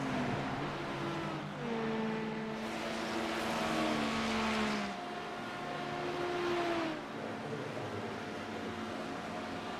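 A Ferrari race car engine in the iRacing sim during a 24 Hours of Daytona race, droning steadily with rising and falling tonal whines as it shifts and revs, loud and continuous throughout.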